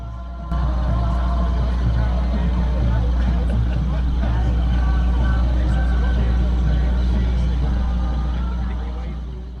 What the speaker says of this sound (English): as you can hear in the background, we're on the right boat. Unfortunately, the diesel's quite loud.